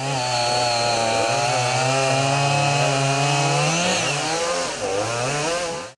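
Firefighters' chainsaws cut through a fallen tree that had come down onto cars, the engine holding a loud, steady drone that dips and revs near the end, close and alone without voices.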